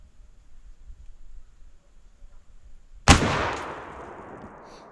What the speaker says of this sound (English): I'm going to shoot at the top right hand turkey head